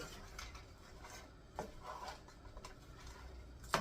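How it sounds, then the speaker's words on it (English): A spoon scrapes and clinks against a dish while barbecue sauce is stirred into chicken, with faint, irregular taps and rubs and one sharper clink near the end, all quiet and close. "So we're going to add some barbecue sauce to that. And get that stirred in nice."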